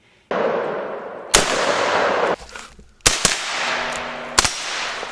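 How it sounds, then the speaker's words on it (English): An unsuppressed Daewoo 5.56 rifle fires several sharp, loud reports, each followed by a long ringing echo, spaced irregularly with two shots in quick succession near the end. "I'll throw in a 20-inch or 18-inch Daewoo unsuppressed for you guys to kind of measure it on."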